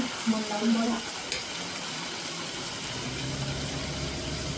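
Cumin, mustard seeds, turmeric and salt frying in hot oil for a spicy potato curry, a steady soft sizzle throughout with someone talking over the first second.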